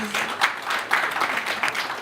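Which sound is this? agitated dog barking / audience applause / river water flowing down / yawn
audience applause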